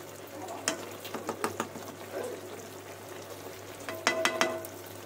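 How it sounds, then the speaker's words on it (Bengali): A pumpkin and potato curry stirred in a pan with ghee, faint sizzling under a handful of sharp spoon scrapes and clinks, clustered at the start and again near the end, close by with no voices. "ঘি দিয়ে একটু নাড়াচাড়ি করে দেবো।"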